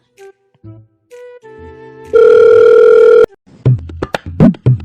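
A few short electronic beeps, then a steady, buzzing telephone tone holds for about a second before cutting off, followed by brief muffled sounds.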